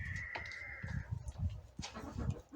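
Chickens in a village coop make soft, low cooing and clucking murmurs in short repeated bursts, close by, with a brief higher tone early on.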